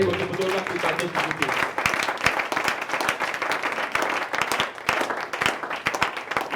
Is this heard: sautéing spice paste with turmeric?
no